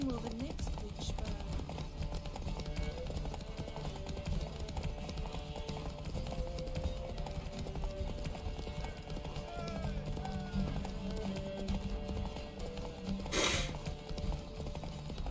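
Horse hooves clip-clop steadily through a video game ride on the horse Roach, joined by a whinny and game music, with a voice speaking at points.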